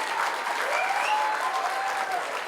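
Audience applause fills a university foundation day prize ceremony, dense and steady throughout, with a faint voice carrying over the clapping.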